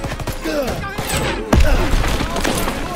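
Rocket launchers firing in the World War II shooter game Call of Duty WWII, with a rapid volley of blasts and a heavier boom midway under a busy battle mix.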